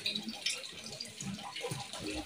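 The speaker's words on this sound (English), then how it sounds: "there is water coming from that place" Water runs from a spring at a Marian shrine in Subukia, a steady splashing flow that carries on throughout, faint voices heard under it.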